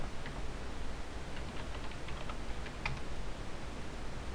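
Keys click on a computer keyboard as an administrator password is typed, giving a quick, quiet run of light taps close by in a faintly hissing room, with no voices.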